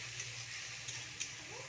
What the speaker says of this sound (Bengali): মশলাটাকে ভালো করে কষিয়ে নিচ্ছি।